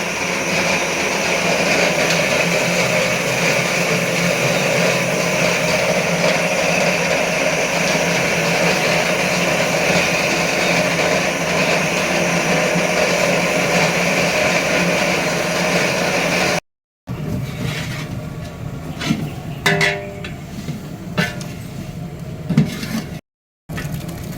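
A kitchen mixer grinder blending omavalli (Indian borage) leaves: a loud, steady motor whir that runs unbroken for about seventeen seconds, then cuts off, followed by brief restarts and rattling knocks.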